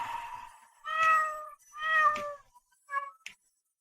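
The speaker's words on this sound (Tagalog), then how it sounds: "Itong pusa." A cat meows three times, close and clear, in drawn-out rising and falling cries with short pauses between them, followed by a brief faint chirp.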